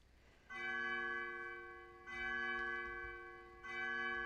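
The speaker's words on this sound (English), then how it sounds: "These bells remind me of something." Bells in the Undertale video game ring out in three clear, sustained tolls at a steady pace, each swelling and then slowly fading.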